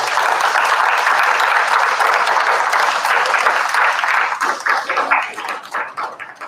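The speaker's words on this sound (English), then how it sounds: "Let's give them another round of applause" Loud audience applause fills a talk-show event hall, steady dense clapping that thins into scattered, separate claps toward the end.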